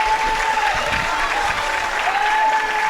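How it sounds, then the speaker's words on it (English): Crowd at a high school baseball game, Lake Central at Munster, applauding and cheering steadily, a loud sustained roar of clapping with a faint voice underneath. "Listen to the crowd."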